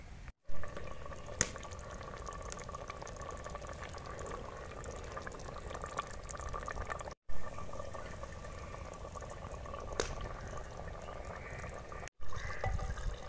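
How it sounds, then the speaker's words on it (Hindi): Half a glass of water is poured into simmering aloo chole curry gravy in a village kitchen, a continuous liquid wash and bubbling that runs steadily with brief cuts. "और अब हम डाल लेते हैं 1/2 ग्लास पानी हल्की सी ग्रेवी के लिए"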